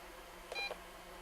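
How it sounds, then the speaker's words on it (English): A single short electronic beep from an Eachine EX2 mini brushless FPV drone signalling low rates, fairly clear against a quiet background hiss. "1 beep for low rates, 2 for high"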